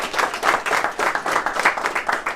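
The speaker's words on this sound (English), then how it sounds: "guys, give a round of applause" An audience claps in a brief, moderately loud burst of applause at a seminar on deal funding, a dense patter of many hands lasting a couple of seconds.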